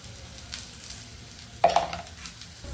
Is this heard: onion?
yes